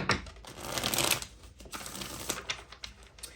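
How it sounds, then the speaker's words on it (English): A deck of tarot cards being shuffled, rapid riffling and flicking with soft slaps, close and fairly quiet. "One more good shuffle."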